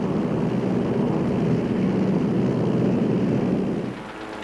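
A steady, broad engine drone of World War II warplanes attacking Pearl Harbor, loud and sustained, easing off slightly near the end, with no voices.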